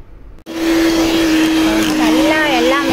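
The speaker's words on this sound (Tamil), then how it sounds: "இப்போ இந்த ஸ்டேஜில் நம்ம காஃபி டிகாக்ஷனும் ஆட் பண்ணி ஒரு 2-3 மினிட்ஸ் எல்லாம் நல்லா மிக்ஸ் பண்ணுற அளவுக்கு பீட் பண்ணி எடுத்துக்கலாம்." An electric beater whirs steadily and loudly as it mixes a coffee ice-cream mixture, a continuous motor drone that starts abruptly after a brief silence, with a voice heard under it.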